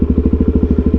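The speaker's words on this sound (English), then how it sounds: "Can you guys hear that exhaust?" A Suzuki DRZ400SM four-stroke motorcycle idles with a loud, close exhaust, giving a rapid even thumping pulse around a dozen beats per second and a deep throaty burble.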